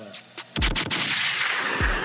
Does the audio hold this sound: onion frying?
no